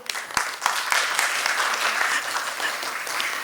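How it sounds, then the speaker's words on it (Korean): Audience at a founding general assembly of a national campaign for a primary care physician system applauds to approve a motion: dense, steady clapping from many hands filling the room, with scattered sharper claps and no talk. "박수"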